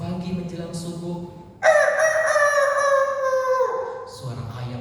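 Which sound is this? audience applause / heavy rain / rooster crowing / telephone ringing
rooster crowing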